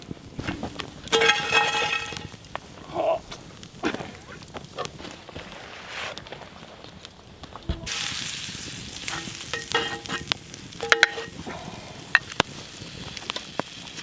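Food sizzles and crackles steadily in a hot pan over a woodland campfire, with occasional stirring clinks and scrapes, loud and close.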